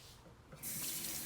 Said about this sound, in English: the first step is to turn on the water